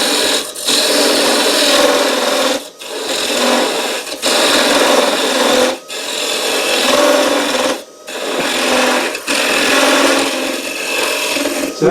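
A wood lathe turns a blank while a gouge cuts a 26 mm spigot, giving a continuous rough scraping rasp that pauses briefly every couple of seconds, close and loud with no talking.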